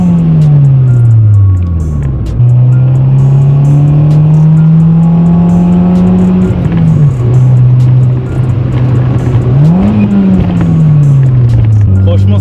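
A Honda Civic engine revs hard at high RPM, pitch climbing and dropping through gear changes, loud and close throughout.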